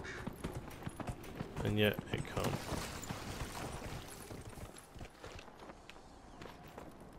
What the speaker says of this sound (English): a horse this size should be at a full-on sprint.